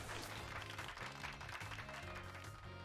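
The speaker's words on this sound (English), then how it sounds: "Give Pikachu a round of applause, everyone." Applause for Pikachu in the video game Pokemon Violet, a steady dense roar of clapping over a constant bed of game music, continuous and fairly loud throughout.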